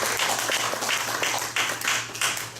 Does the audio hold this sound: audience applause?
yes